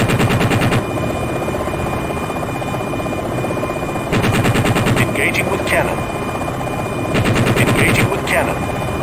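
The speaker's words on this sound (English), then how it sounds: "Engaging with cannon" Cannon fire from an AH-64D Longbow attack helicopter in a flight simulation game comes as three loud rapid bursts of rhythmic shots over a steady rotor drone, with short radio-style voice cues in between.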